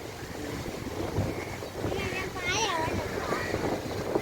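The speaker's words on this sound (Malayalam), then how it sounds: "നല്ല കാറ്റാണ്" Strong coastal wind buffets the microphone at Kovalam beach, a steady broadband roar with surf and boat noise beneath, rising in gusts throughout; faint voices are mixed in.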